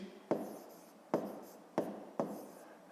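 A pen writes math figures by hand on paper in four short, scratchy strokes, each starting with a sharp tap and trailing off, close and quiet with no speech.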